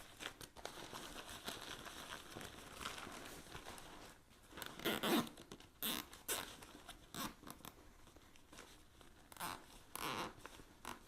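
A plastic zip tie is ratcheted and pulled tight around gathered fabric, giving rapid zipping clicks and crinkly rustles in irregular bursts, close and fairly loud, with quieter handling noise between.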